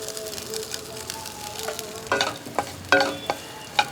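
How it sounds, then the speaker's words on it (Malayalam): Coconut pieces frying in hot oil and ghee in a pan while making a Kerala snack, a bubbling sizzle that turns into loud sharp crackles and pops in the second half as the pieces go in and are stirred. "എണ്ണ ചൂടായിട്ടുണ്ട്. ഞാൻ തേങ്ങാക്കൊത്തിടുകയാണ്."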